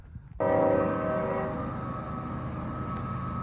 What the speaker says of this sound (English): There's a train going through Hazen.